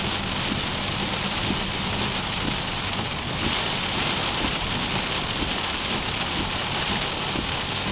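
Heavy, blinding rain from a strong storm pounds steadily on a moving car near Scranton and the Poconos, a dense, loud, continuous wash with no letup.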